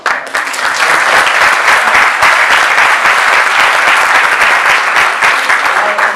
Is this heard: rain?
no